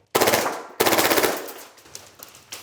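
Novritsch TP22 airsoft pistol firing full auto: two rapid bursts of sharp mechanical clacks, each about half a second long, close and loud, the second trailing into a reverberant tail with a few faint clicks.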